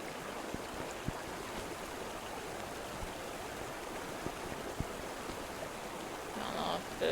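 A waterfall rushes steadily in the video game Cat Detective Albert Wilde, a constant wash of moderate hiss with a few faint soft knocks and a slight swell near the end.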